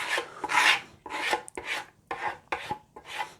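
Rough, rhythmic scraping strokes of grain filler being worked into the wood grain of a scratch-built guitar, about six passes with brief pauses between them, close and moderately loud.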